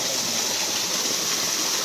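A hidden village waterfall pours with a steady, close broadband rush of falling water, even and unbroken throughout with no voices.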